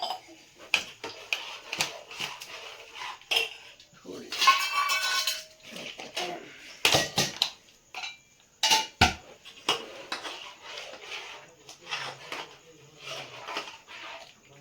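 Gram flour batter for khandvi being stirred in a pot, with repeated metallic scraping and clinking of a spoon against the vessel in irregular bursts, while a person talks over it.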